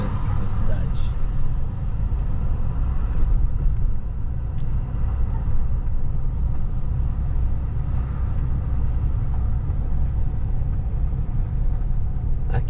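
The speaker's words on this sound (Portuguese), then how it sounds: "O barulho do motor ali é geração de energia, né, na cidade." Engine of the power generator in Camarones, a small Argentine town on the Atlantic coast, runs with a steady, loud low rumble that drones on without pause throughout.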